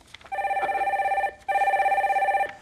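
A telephone rings in two long electronic bursts with a short gap between them as a call is put through on a live phone-in broadcast. Loud and close, no voices during the ringing.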